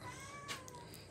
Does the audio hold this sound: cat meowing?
yes